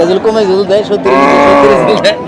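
A cow moos loudly and close by at a cattle market in long, drawn-out lowing calls, one after another, with faint voices in the background.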